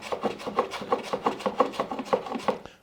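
A sharp block plane shaves a Douglas fir patch level on an upper kitchen cabinet in amateur woodwork, about a dozen quick rasping strokes in steady rhythm, close and clear with no talk.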